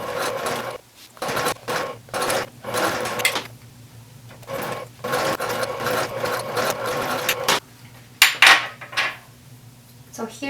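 A sewing machine top stitches a 1/4 inch seam on a Tiffany bag, running in repeated short bursts with brief pauses between them, close by, with faint handling clatter near the end.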